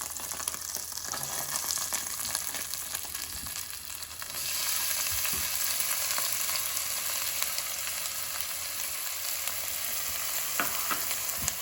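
Diced onion and half-moon celery pieces drop into hot fat in a pot for minestrone soup, and a loud, steady sizzle and crackle swells partway through, up close with occasional stirring clinks and no talking.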